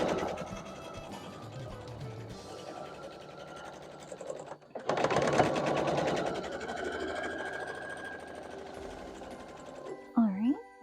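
A sewing machine stitches quilt block pieces together for a Moroccan barn star block, a steady mechanical whir running under continuous talk, pausing briefly midway before resuming.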